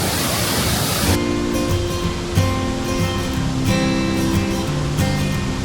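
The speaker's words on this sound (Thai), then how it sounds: "แบ็กกราวด้านหลังเป็นน้ำตกที่พุ่งลงมา แรงมาก" The constant roaring rush of Pha Dok Siew waterfall on Doi Inthanon, Chiang Mai, Thailand, fills the clip, broadband and steady, with a tonal hum and music layered over it after the first second.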